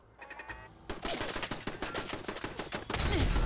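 Shotgun blasts from the video game Fallout 4, a rapid run of loud, sharp gunshots crowding over one another like a fusillade, building to a heavier burst at the end.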